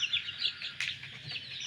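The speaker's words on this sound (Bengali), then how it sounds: "এই দেখেন দেশি মুরগি" Chickens of native desi breed at a poultry farm in Bagha, Rajshahi, giving a few short high chirps and cheeps with one brief louder call, fairly near and moderately quiet with no talk.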